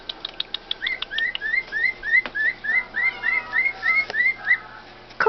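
Pet bird Colbert, kept in a cage at home, gives a run of sharp chirps followed by a steady series of rising whistled notes, close and clear with no talking.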